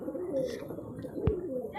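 Andhra pigeons in a Kolkata loft coo nearby in soft, throaty murmurs, with one short knock partway through.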